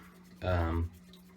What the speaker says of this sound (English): Soap it up, use your toothbrush.